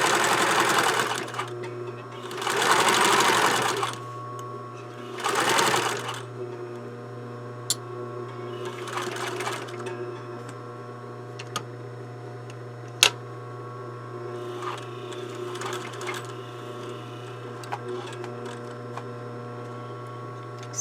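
A sewing machine stitches along the edge of a blouse collar in three short bursts, its needle rattling close and clear. After that come a steady hum and occasional clicks as the work stops and pivots.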